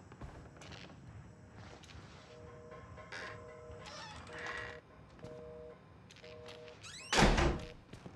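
A door in the horror game Outlast, set in a psychiatric facility, slams shut with a loud, sharp bang near the end after quieter ambient game sounds and faint knocks.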